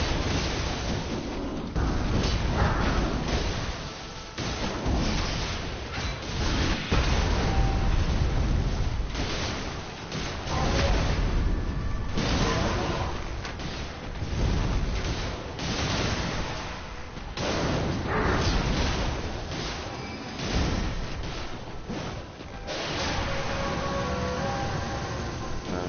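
A jar cannon fires repeatedly in a video game, producing a series of heavy booming blasts, each followed by a rumbling decay, one after another for about 26 seconds.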